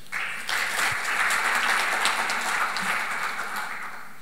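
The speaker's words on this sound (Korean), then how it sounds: "박수로 발표를 듣겠습니다." A forum audience at an energy policy session breaks into steady applause before a presenter speaks, rising quickly and holding at an even level before easing off.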